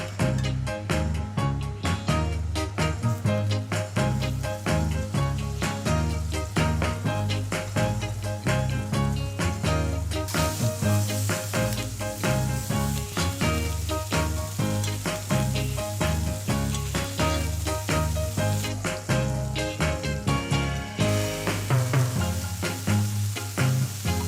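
Meat sears in lots of butter in a very hot pan, giving a loud, steady sizzle that runs unbroken throughout with no talking.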